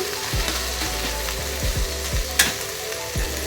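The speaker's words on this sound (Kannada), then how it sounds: "ಇದೆಲ್ಲ ಮಿಕ್ಸ್ ಮಾಡ್ತೀನಿ" A spoon scrapes in rhythmic strokes through a potato-onion filling frying in a pan, each stir a distinct clack over a soft, continuous sizzle.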